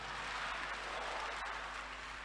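A church congregation clapping their hands together, a dense steady wash of applause sustained throughout at moderate loudness with no spoken voice.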